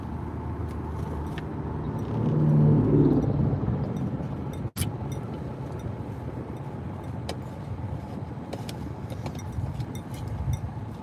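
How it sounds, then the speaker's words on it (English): Cars pass on a road while someone drives, heard as a steady low rumble of traffic with one car swelling past early on and a sharp knock partway through. "Looks like there's a lot of cars right here today."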